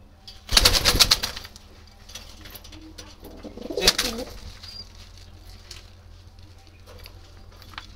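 Jalali wild pigeons coo softly in the background, punctuated by two loud bursts of wing flapping and scuffling near the start and middle.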